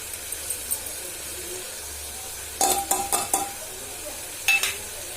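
Spice masala of chili powder, cumin powder and turmeric sautéing in a pan for bitter gourd curry, a soft steady sizzle with a few sharp scrapes and clanks of a spoon stirring against the pan.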